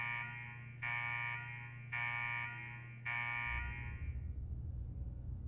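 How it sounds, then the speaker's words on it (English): An alarm in the Fallout 4 video game blares in three long, steady tonal bursts that stop and restart, followed by a low rumbling drone. "What the hell is that alarm?"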